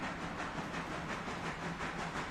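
Train rolling along in a railroad simulation game at evening, a steady broadband rumble with faint rhythmic clatter, heard alone without talk.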